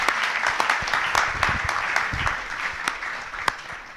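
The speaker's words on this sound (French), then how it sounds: "je vous demande d'applaudir" A crowd at an evening public talk on nuclear power applauds warmly for GE Hydro workers, a dense, loud, sustained wash of many hands with a few sharper claps standing out.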